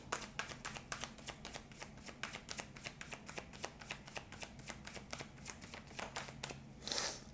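Oracle cards from an angel love deck being shuffled close up, a long, steady stream of rapid papery flicks and slaps, ending in a brief louder rustle.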